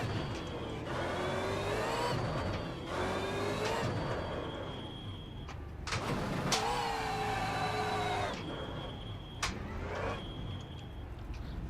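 Supercars race cars in the Automobilista racing game, engines revving in repeated rising whines broken by brief gear-change gaps, a steady loud engine drone with no speech.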